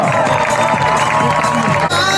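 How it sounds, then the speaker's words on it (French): Spectators at a trail race event applaud and cheer in a dense, continuous roar, loud and close, with voices mixed into the crowd noise. "Maintenant, on applaudit s'il vous plaît, madame."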